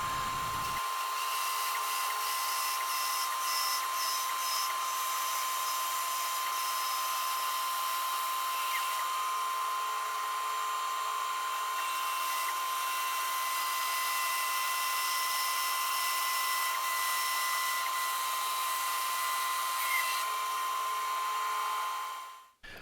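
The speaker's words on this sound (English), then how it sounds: "I'm just going to use my bandsaw to cut it out again." A bandsaw runs continuously while cutting out a wooden fishing lure, a steady high whine and buzz holding for over twenty seconds before spinning down abruptly at the end.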